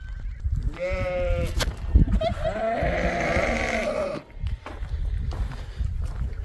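Sheep locked into a pen on a farm with ewes and lambs bleat several times in close succession, loud and near, over a rough background of rustling and shuffling.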